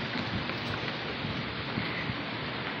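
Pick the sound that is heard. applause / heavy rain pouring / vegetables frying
heavy rain pouring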